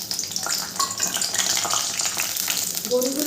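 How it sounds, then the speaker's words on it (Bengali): Chana dal badi frying in hot mustard oil, a steady bright sizzle with crackling bursts and some stirring scrapes, close and fairly loud throughout. "এরপরে আমি বড়িগুলোকে ভেজে নেব"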